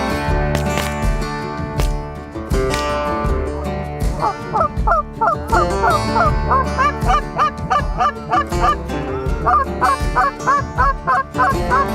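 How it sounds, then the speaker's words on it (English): Flock of Canada geese honking in a field, a dense, continuous chorus of overlapping, repeated calls ringing loud and close throughout. "So tons of honkers in here."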